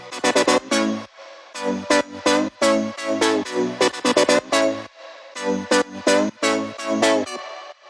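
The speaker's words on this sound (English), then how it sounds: "So the main synth wobbles in the drop consists of 3 different synths." Three layered Serum synths, two chord layers and a lead, play rhythmic wobbling chord stabs from an electronic dance drop, loud and alone in choppy pulsing bursts with short gaps between phrases.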